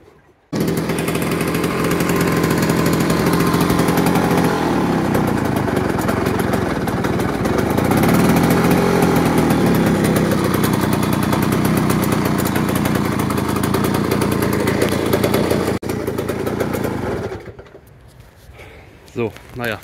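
A 1959 Hercules 220 moped engine starts and runs with a loud, steady two-stroke buzz close by for most of the stretch, then cuts off near the end.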